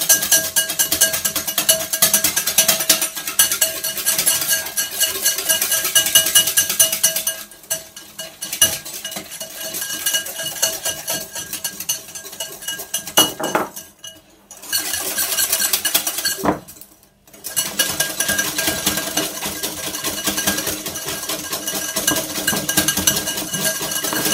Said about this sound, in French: j'ajoute mon sucre petit à petit en continuant à fouetter.